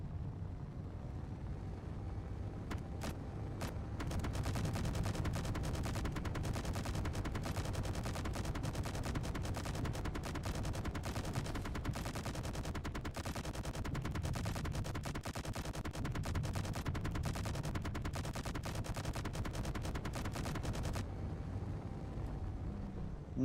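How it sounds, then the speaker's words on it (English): F-302 autocannons on a strafing run in a video game, rapid sustained bursts of loud automatic fire over a constant engine roar, hammering almost without pause for about seventeen seconds before cutting off. "Let's see what happens when we strafe the ship with the autocannons"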